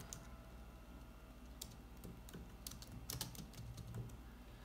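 Soft, steady clicking of keys on a computer keyboard as a name is typed into a search box, faint and fairly close, with irregular keystroke clusters over a low background hiss.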